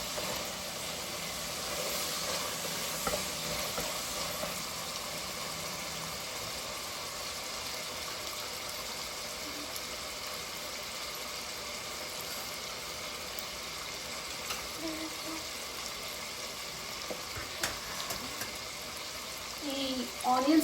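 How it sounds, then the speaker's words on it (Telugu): Onions fry with ginger garlic paste in a pan, giving a soft, continuous sizzling hiss that stays low and even throughout, with a few faint clicks near the end. "ఈ ఆనియన్స్ ఇప్పుడు ఫ్రై అవుతున్నాయి కదా"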